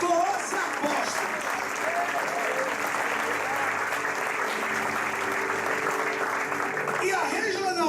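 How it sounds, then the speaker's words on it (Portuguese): A church congregation in Rio de Janeiro's Zona Sul applauds at a regional church inauguration, with steady, dense clapping from a large crowd running for several seconds while a voice talks over it. "Quem pode aí glorificar, dar um aplauso?"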